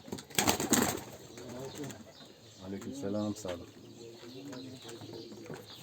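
Pigeons, one sick with salmonella and a twisted neck, coo softly in the background while someone speaks a short greeting, with a brief burst of louder noise near the start.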